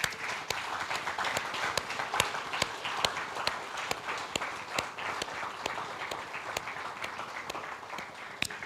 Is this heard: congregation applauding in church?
yes